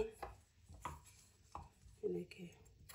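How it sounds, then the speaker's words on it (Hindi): A knife chops washed potatoes on a board in a few uneven, close thuds, faint overall, with a soft murmuring voice in between. "यहाँ पे मैंने दो आलू लिए अच्छी तरह धो लिया इनको अब इनकी भी कटिंग आप देखें"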